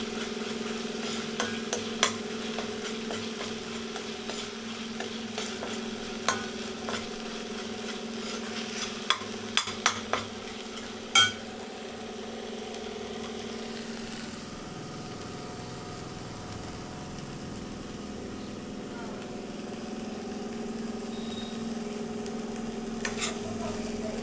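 Ginger and garlic frying in a pan and being stirred as they brown for a chicken curry, a steady sizzle running throughout under occasional sharp scrapes and clinks of the spoon, with a low hum beneath and no voices.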